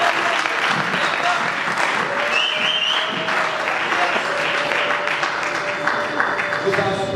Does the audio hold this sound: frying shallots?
no